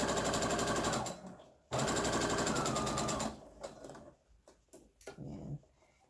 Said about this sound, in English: I'm gonna start at one end of my fabric, and I am going to start back stitch